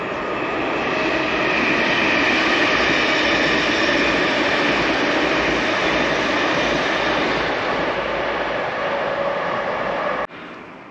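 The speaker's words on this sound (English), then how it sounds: "You stop to take a few clips and a train goes past." A train rumbles past close by in a steady, loud roar lasting several seconds before cutting off abruptly.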